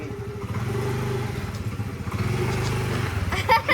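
A motorcycle engine runs steadily nearby, its mid-pitched throb rising slightly as it is revved, with clattering at the end.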